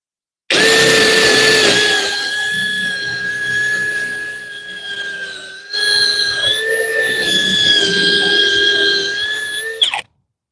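A power drill fitted with a drill bit whines steadily at a high pitch, briefly dipping and cutting out midway, then spinning up again before stopping abruptly, while drilling into a willow tree stump outdoors.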